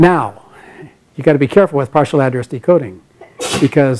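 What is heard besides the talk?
sneeze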